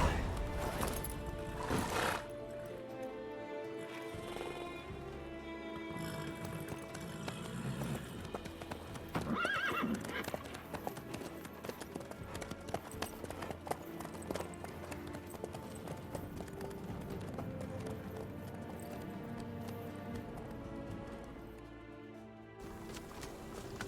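Horse hooves clip-clop steadily with occasional neighs and whinnies in The Witcher 3, set over a continuous musical score that runs throughout.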